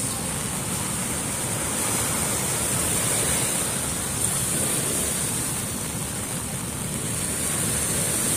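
Heavy rain from a typhoon pours steadily along Manila Bay, a dense, even hiss that stays loud and constant throughout without a break.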